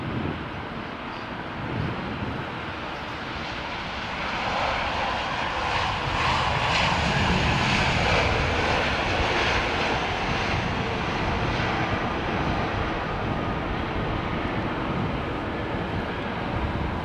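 An aircraft flypast over London Heathrow builds to a loud, broad jet roar that swells in the middle, then stays strong and slowly eases off, with wind buffeting the microphone.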